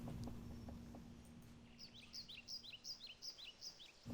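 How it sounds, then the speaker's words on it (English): Birdsong in the wilderness of the video game Baldur's Gate II comes as a series of quick, bright chirps repeating in a regular pattern over a faint low hum, quiet and close, with no talking. "Wildlife, you can hear the birds chirping and all that."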